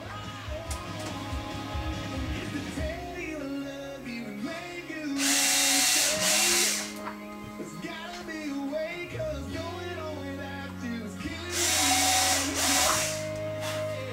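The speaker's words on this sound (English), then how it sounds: "this drill, when I drill it with it on the model wing" A power drill whirs steadily with changing pitch, broken by two loud high-pitched bursts of drilling into a model airplane wing, close by with no talking.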